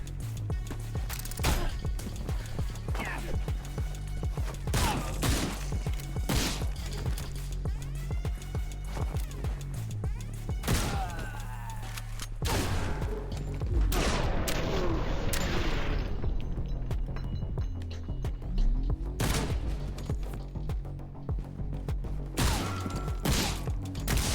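Video game gunfire in a shootout, with repeated sharp shots and bursts scattered across a busy mix of mechanical clatter, thumps and other game effects, fairly loud and dense throughout, no talking.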